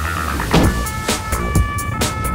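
French municipal police car speeding along a seafront with its siren wailing, steady tones moving through traffic with repeated broadband whooshes and rumble close by.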